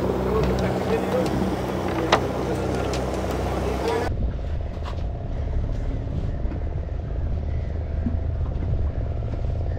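Boat engine droning on Chilika Lake as the boat arrives, a steady loud motor hum with water noise that drops to a muffled rumble halfway through.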